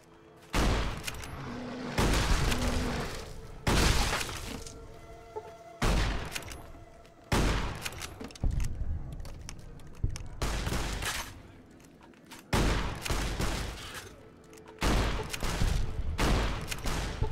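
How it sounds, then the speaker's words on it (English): Shotgun blasts ring out in the video game Fallout New Vegas, a string of loud, booming shots fired in quick clusters with short pauses between, some overlapping echoes and a faint voice underneath. "Action shotgun here."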